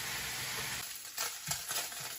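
Bacon frying in hot oil in a skillet, a steady close sizzle with crackles and pops, brief stirring or scraping sounds rising over the hiss in the second half.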